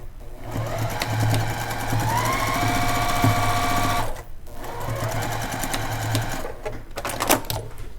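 Sewing machine stitching a quilt block, a close steady mechanical whir in two long runs broken by a brief pause, with light rhythmic clatter throughout.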